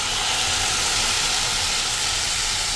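Rice wine poured into a hot pan with fish maw for a braise of fish maw and shiitake mushrooms, giving a steady, loud broadband sizzle and hiss that holds constant throughout with no talking.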